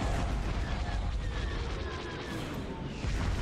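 Weapons fire and explosions rumble through a Star Wars Empire at War space battle, a dense continuous barrage of booms and blasts with game voices calling out over it.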